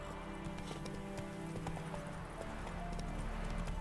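Horse hooves clip-clop at a gallop in The Witcher 3, a steady rhythmic beat over a dense bed of game ambience and music, with an occasional whinny.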